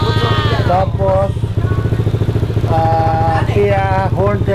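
A Honda ADV 150 scooter engine runs with a steady, pulsing idle close by, while someone talks over it throughout.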